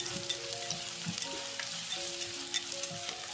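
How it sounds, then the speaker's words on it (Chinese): Mushroom pieces stir-fried in hot oil with scallion and ginger slices in a clay pot, a steady close sizzle broken by scraping stirs and soft clinks of the spatula against the pot. "砂锅油热，放入葱片、姜片，翻炒出香味，加入香菇块翻炒"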